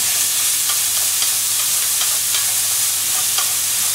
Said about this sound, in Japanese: さっき肉炒めたフライパンでこれも炒めちゃいます